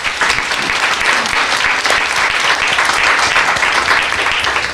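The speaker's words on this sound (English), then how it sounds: "you are applauding for each other" Audience at a talk breaks into sustained, dense applause, loud and even throughout with no voices over it.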